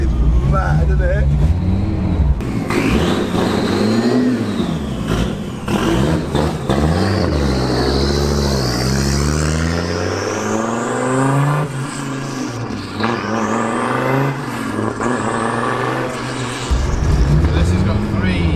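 Road legal rally car with a sequential gearbox and plated differentials pulling away, engine revving and rising through gears with loud drivetrain whine, heard from inside with excited voices talking over it throughout.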